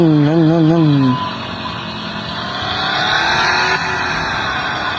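A car in a driving video game pulls out with a steady engine drone that rises slightly, loud and alone after a brief wavering tone at the start.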